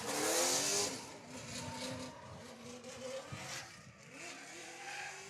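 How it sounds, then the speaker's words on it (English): A drift car's engine rises and falls as the throttle is worked in pulses during a Formula Drift Pro-Am run, rasping from mid-distance with faint tire noise. "You can hear that throttle modulation there."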